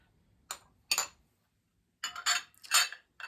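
An engraved plate, bowl and small mayonnaise spoon being handled, giving two short clinks and then a cluster of three brighter chinks of glass or metal, close and quiet against silence.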